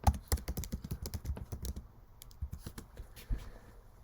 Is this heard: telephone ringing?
no